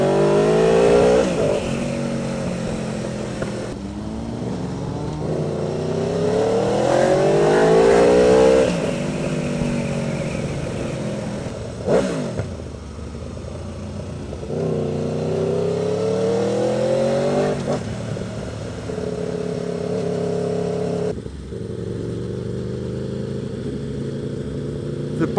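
An Aprilia RSV4 Factory motorcycle engine revs hard while riding, rising through the gears with repeated climbing pitch sweeps and brief drops at each shift, loud and close throughout.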